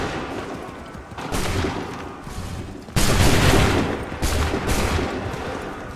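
Musket volleys crash out in Assassin's Creed 3 Remastered, with a smaller burst of shots early on, a heavy massed volley at about the midpoint and another ragged burst soon after, all loud and close over a rumbling battlefield background.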